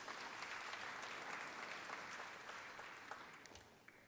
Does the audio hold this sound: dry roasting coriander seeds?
no